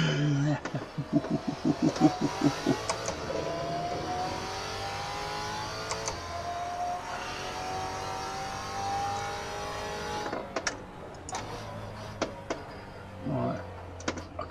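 Maserati GT4 racing car in Assetto Corsa at the Red Bull Ring, engine revving up through gears with rising tonal harmonics, steady and prominent, with a brief lull and gear shift near the end, while someone talks over it.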